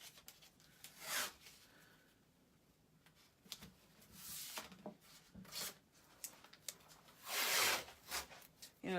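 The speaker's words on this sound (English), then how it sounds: "I may take a little tape over here, tape down the edges so that I can protect the table edge from the rollers." Tape is pulled off a roll and pressed onto the edges of a table, giving several close, raspy tearing and ripping bursts separated by quieter handling rustles and rubs.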